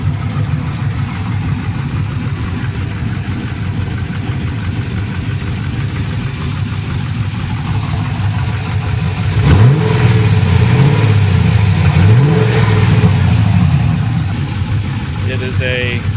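A 1998 Pontiac Formula WS6, running a swapped-in 2001 engine and an open 4-inch exhaust cutout, idles with a deep, steady rumble, then revs up sharply several times before settling back, loud and close.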